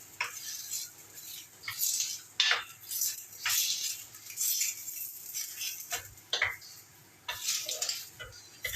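Pork loin steaks being stirred with salt to mix a marinade, giving repeated wet scraping and clinking strokes in an uneven rhythm, close and fairly loud, with no talking.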